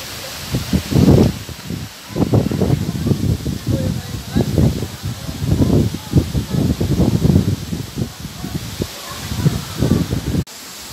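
Wind sweeps through coconut palms at a beach resort in the Philippines, making repeated bursts of rustling fronds that rise and fall in loose gusts. A voice is also heard briefly.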